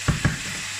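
Beef caramelizing in a hot pan for lok lak, a steady sizzle broken by two quick low thuds of stirring in under a second, close up and without talk.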